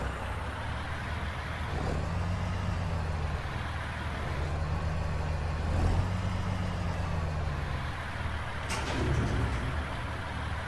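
A Peterbilt truck engine in a video game idles with a deep, steady rumble, its pitch rising and falling slightly a few times, plus an occasional hiss, with no voices.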